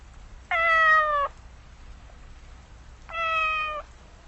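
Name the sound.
cat meowing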